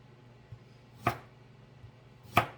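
A kitchen knife chops dense carrots into diagonal slices no more than half an inch thick: two sharp, distinct cuts about a second apart, with fainter taps between them against a quiet background.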